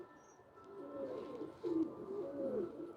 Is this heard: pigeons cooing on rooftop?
yes